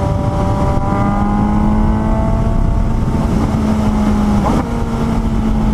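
A 2018 Suzuki GSX-S 750 motorcycle with a super sport-derived engine revs loud and close, its pitch climbing steadily through the gears with a short dip at a shift, a sustained buzzing drone throughout.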